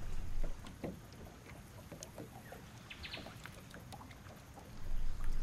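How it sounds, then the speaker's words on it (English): Gentle water lapping against the shore in the Noosa Everglades, Queensland, a soft continuous wash with low rumble that swells slightly at the start and end, with faint bird chirps in the background and no voices. "lapping of water against the shore"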